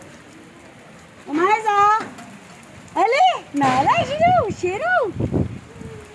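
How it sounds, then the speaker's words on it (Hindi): Steady rain patters in the background while a person speaks and calls out in bursts over it. "और अचानक से बारिश हुई है"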